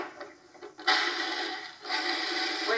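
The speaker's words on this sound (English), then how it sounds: "When you're grinding almonds or any kind of nuts, make sure that your blade of your food processor is sharp." A food processor grinds almonds with salt and butter, starting with a few short pulses and then whirring in two longer, steady gritty bursts, loud and close with no talk.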